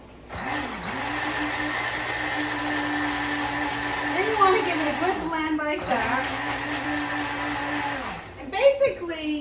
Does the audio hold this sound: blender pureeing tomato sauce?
yes